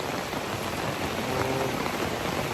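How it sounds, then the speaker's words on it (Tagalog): Heavy rain pouring down continuously, a dense, even hiss of drops striking surfaces that stays loud and unbroken throughout, with no talking. "Yung ulan hindi pa nahinto, mas lalo pang lumakas."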